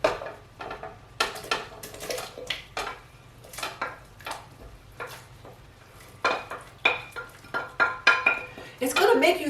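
Chopped green onions, scallions and carrots tipped into a soup pot for Jamaican fish tea, with repeated clinks and scrapes of utensils against pots and dishes, a rhythmic run of knocks near the end.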